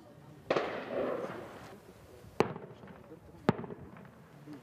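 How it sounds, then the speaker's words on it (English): Sharp gunshots crack out at night near a village held under militia watch in Syria, a rumbling burst followed by two separate reports spaced a second apart, echoing over low background noise. "As gunfire rings out nearby"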